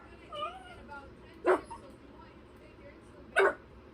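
A nearby dog whimpers with rising whines, then gives two sharp barks about two seconds apart, each standing out from the quiet room.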